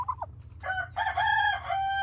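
Rooster crowing among chickens on a farm, one close, loud cock-a-doodle-doo with a stuttering start and a long drawn-out final note over a low rumble.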